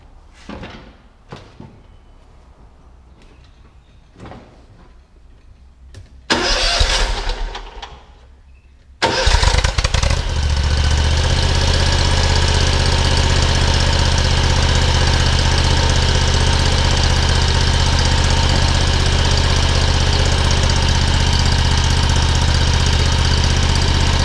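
A Kawasaki FX921V engine on a John Deere 960M mower cranks over after a few quiet clicks and rattles, catches, and settles into a loud, steady close-up running drone that holds to the end, with no talking.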